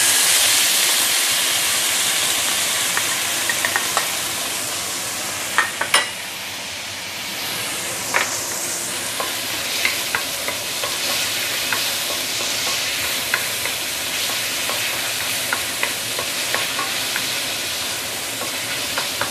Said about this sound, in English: Going to saute this for a minute or two